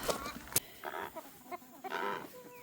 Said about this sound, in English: I let these chickens out and they go straight for my tomatoes.